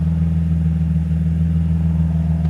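A Nissan 350Z with a cheap stainless aftermarket exhaust idles steadily with a deep, droning hum that holds an even level throughout, with no voices.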